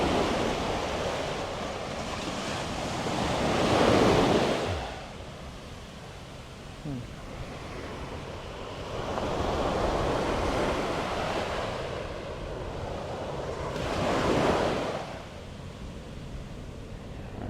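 Ocean waves churn at Tunnels Beach on Kauai, swelling in three broad surges of surf over constant wind and roar, with people talking faintly in the background.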